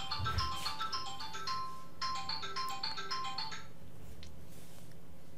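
A mobile phone rings during a live television broadcast, its melodic electronic ringtone playing a bright repeating pattern of tones for several seconds before cutting off, leaving low background noise.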